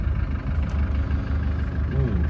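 A Land Rover Defender diesel engine idles with a steady low rumble while the truck creeps onto scales, loud and close throughout.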